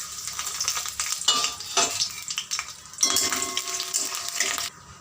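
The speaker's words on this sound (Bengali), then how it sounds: "এবার বড়িটা ভেজে নেব।" Bori lentil dumplings fry in hot oil in a kadai, a bright close sizzle repeatedly broken by spatula scrapes and stirring clinks against the metal pan, then cutting off abruptly.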